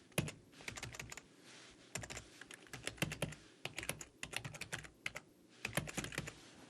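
Rapid, uneven typing on a computer keyboard, crisp close clicks in bursts with brief pauses, keys struck alone with no voice.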